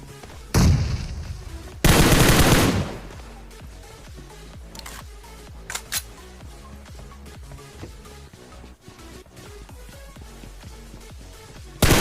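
PUBG video game gunfire rings out, with two loud bursts near the start followed by a string of quieter rapid shots and clicks. The shooting carries on steadily to the end, with no talk.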